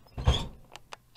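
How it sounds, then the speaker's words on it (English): An old purple recliner chair gives a short creaking squeak, followed by a couple of faint ticks as it settles, heard close and alone. "you'll hear my chair make sounds like this"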